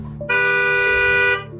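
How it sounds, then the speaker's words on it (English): A single car horn blares for about a second, loud and close, over low traffic rumble on a busy street. "cars honking."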